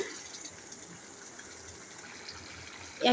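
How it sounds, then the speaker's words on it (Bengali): Broth poured into a pan of potato curry while cooking, a soft steady liquid trickle with a louder splash at the end. "এবার আমি ঝোলটা অ্যাড করে দিচ্ছি"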